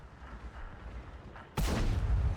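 In the tank video game, a Type 59 fires a loud, sharp cannon shot that ricochets, erupting after a stretch of low rumbling background, followed by a sustained bright, noisy ring-out.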